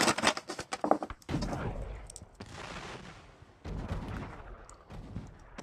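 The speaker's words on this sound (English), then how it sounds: "Again, there is the firing gun." Sharp gunfire cracks sound in a quick cluster at the start, then heavier booming reports follow at intervals, moderately loud with noisy rumbling between shots.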